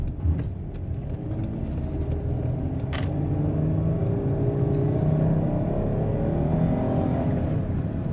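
Steady engine drone from a 2017-2023 Chrysler Pacifica minivan with about 200k on it, accelerating as a low continuous rumble from inside the cabin, with no voices.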